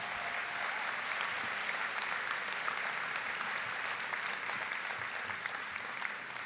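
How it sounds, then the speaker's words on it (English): A large crowd claps steadily at a school commencement ceremony, dense applause rolling on evenly from start to finish, heard from a little distance. "That deserves a round of applause, I think."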